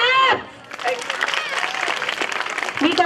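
A burst of applause from schoolchildren at a Children's Day celebration, many hands clapping in a busy, crowded patter after a brief voice at the start.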